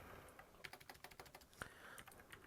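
A computer keyboard is typed on in a quick run of soft, close clicks and taps, heard alone and faint.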